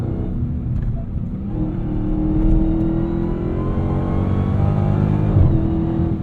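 Dodge Challenger Hellcat Black Ghost, 807 horsepower, powering out of a corner from inside the cabin, a deep loud engine drone that swells and rises in pitch as it accelerates, with whirring drivetrain noise underneath.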